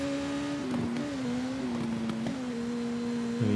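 A superbike engine in the TT Isle of Man racing game on the Snaefell Mountain Course accelerates gently, a steady droning whine with small pitch shifts as the gears change, heard alone and up close.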